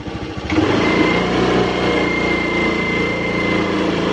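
Honda Beat FI scooter with an ignition fault, its small engine catching and revving up after a brief sputter, then holding a steady high-pitched buzzing drone nearby with a faint whine over it.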